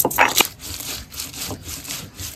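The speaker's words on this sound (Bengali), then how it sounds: "আমি এখন ধনের পাতা, কাঁচা লঙ্কা আর কালো জিরে বেটে নিচ্ছি" Coriander leaves, green chilli and nigella seeds crushed into paste on a grinding stone, a rough rhythmic scraping and rubbing at close range, repeated strokes with no talk.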